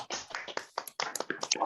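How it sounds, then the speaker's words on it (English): A small audience applauding, a brief burst of light, uneven handclaps close by, sparse and a little scattered rather than a full roar. "please give a big round of applause for the man with the melodious voice"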